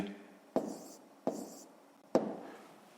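Three separate pen or pencil strokes scratch across paper as a math answer is written by hand, each a sharp tap followed by a short scraping drag, close and quiet with gaps between.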